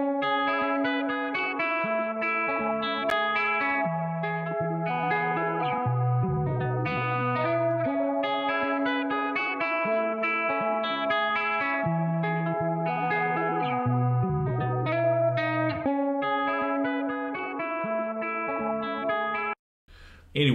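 A sample heavily processed with synth effects in Logic Pro X plays continuously, its tones wobbling and warping with chorus, distortion and echo, cutting out abruptly at the end.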